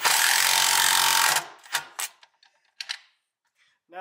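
An impact driver runs a nut tight on a bolt for a metal tube otter trap, giving a loud, steady rattling burst that stops after about a second and a half. A few sharp knocks and taps follow, then quiet.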